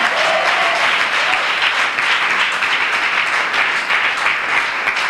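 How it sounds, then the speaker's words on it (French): A church congregation claps and cheers loudly in praise of Jesus, a dense, sustained wash of applause from a large crowd that fills the room without pause. "Est-ce qu'on peut acclamer très fort Jésus?"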